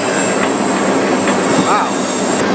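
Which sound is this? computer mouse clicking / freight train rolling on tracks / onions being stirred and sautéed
freight train rolling on tracks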